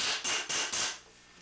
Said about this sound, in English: All I'm doing is I'm taking the hammer and hitting both